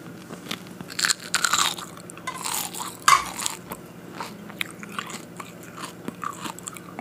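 Close, crunchy chewing of a grasshopper coated in Carolina Reaper sauce, with repeated bites and crackling mastication filling the stretch, loud and intimate, no talking.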